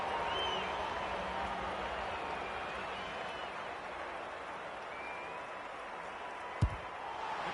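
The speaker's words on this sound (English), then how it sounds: "Crowd noise tells you all you need to know" Crowd at an Australian rules football match in the AFL 26 video game, a broad steady stadium roar with faint cheering and applause throughout and a single sharp thump near the end.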